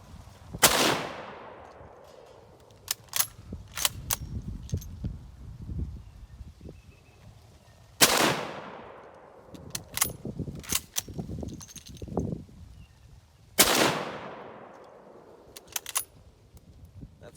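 Three loud, sharp Mosin rifle shots ring out several seconds apart, each with a ringing decay, with clinking bolt and handling sounds and light rustling between them.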